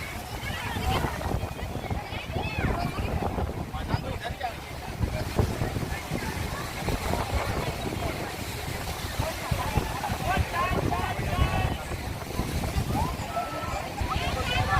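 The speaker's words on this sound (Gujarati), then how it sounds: "દરિયાના મોજા હો ભાઈ મોજા ઠેઠ ઉપર સુધી આવે છે" Sea waves surge and wash up the shore near the coastal Bhadkeshwar Mahadev temple in a steady broad roar mixed with wind buffeting the microphone, while someone talks over it.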